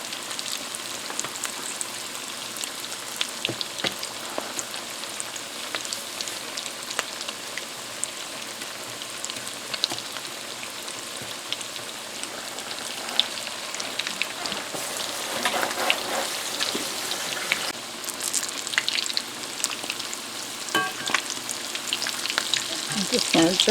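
Salmon croquettes frying in oil in a pan, giving off a continuous close, rain-like sizzle that grows a little louder and busier toward the end, no talking.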